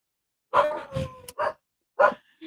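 Several dogs bark in short, loud bursts, with a pause between the early run of barks and a final pair of yaps.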